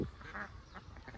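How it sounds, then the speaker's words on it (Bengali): Ducks by a village pond give brief faint quacks in a short burst, heard close but quietly. "দেখুন এই হাঁসগুলো কি সুন্দর আছে"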